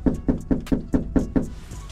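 Seven firm, evenly spaced knocks on a front door, close and loud, landing about every quarter second before stopping, with no talking.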